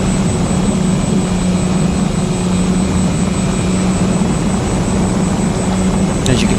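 Twin-engine FPV model airplane with two props pulling, droning steadily in flight as a constant, loud buzzing hum with a faint whine, unbroken throughout.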